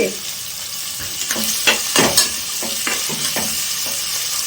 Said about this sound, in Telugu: ఇప్పుడు ఆనియన్స్ వేగినంత వరకు మనం వెయిట్ చేయాలన్నమాట